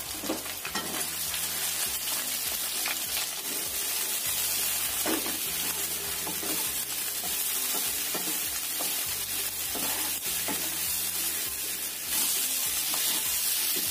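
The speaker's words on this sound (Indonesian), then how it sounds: "Kemudian kita goreng terongnya." Steady, loud sizzling of eggplant frying in hot oil, continuous throughout with occasional stirring scrapes.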